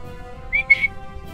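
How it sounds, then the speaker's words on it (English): Short whistle of two quick rising notes heard over game audio and a steady low background hum, during play of The Escapists 2. "there's no way someone just whistled for him"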